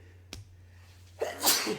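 A single sharp sneeze from one person, close and fairly loud, preceded by a faint breath and a brief click in an otherwise quiet room.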